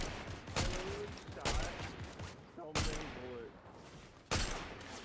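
Gunfire from the All-Rounder Headtress DMR in Fortnite: about four sharp, loud single shots spaced roughly a second apart, each with a short ringing tail, over steady game background noise.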